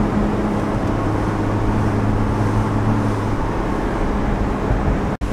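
Engine of a Porsche 981 Boxster on the road, a steady low drone with a sustained hum and broadband road and wind noise, even and continuous throughout, with no talk and a brief click at the very end.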